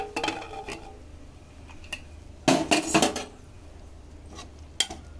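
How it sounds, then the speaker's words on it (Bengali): A pressure cooker lid opened in a home kitchen during Bengali banana-flower cooking: a loud clatter of metal around the middle, with lighter clinks before and one sharp tap near the end, no talk. "প্রেসার কুকারে ঢাকনা খুলে নেব।"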